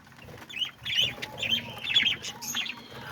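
Pet lovebirds and parakeets chirp in quick bursts of high, sharp tweets while crowding in to feed, with soft wing flutters and rustling close by.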